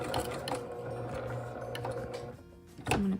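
Sewing machine stitching a mitered corner on quilt binding: a close, steady mechanical whir with rhythmic ticking, ending in a brief louder clunk.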